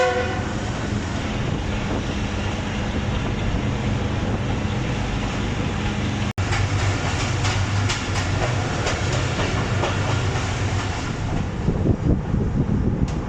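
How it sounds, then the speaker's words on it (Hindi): The Fareed Express runs on a Pakistani branch line past a disused loco shed toward Murad Chishti station, a loud, continuous rumble and clatter of wheels with a brief horn-like tone partway through. "ट्रेन अब मुराद चिश्ती रेलवे स्टेशन पर पहुंच रही है।"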